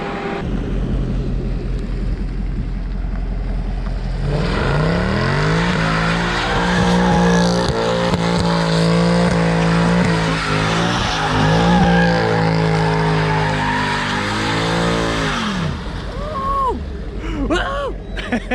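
A Chevrolet Corvette Grand Sport doing donuts, its engine revving hard while the tires skid and squeal in a long, sustained, wavering howl that rises and falls, loud and close, before fading into scattered squeaks.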